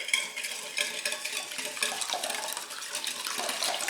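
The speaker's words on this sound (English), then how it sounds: "Whisk it in." Safflower oil being whisked into orange juice waffle batter in a bowl, a wet, rapid, swishing rhythm of the whisk close up and fairly loud, without any voice.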